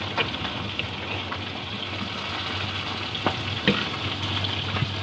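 Rohu fish pieces fry in a pan, giving a continuous close hiss of oil with occasional sharp pops and crackles, and no voices.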